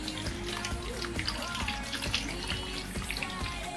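Liquid pouring into an ice maker, a continuous splashing, trickling stream with small bubbling droplets, close and moderately quiet throughout.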